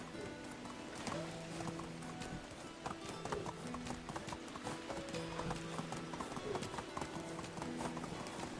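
Horse hooves gallop in the medieval video game Medieval Dynasty, a brisk, even clip-clop rhythm running steadily throughout at a moderate distance, with little else audible.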